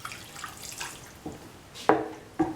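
Water poured into a pan while cooking red spinach rice, heard as a few short splashing and trickling bursts close by, with no talking.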